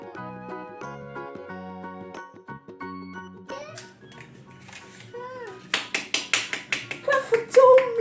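During cupcake baking at home, a toddler claps hands in a quick run of sharp, close claps near the end, following tinkly musical tones and a voice.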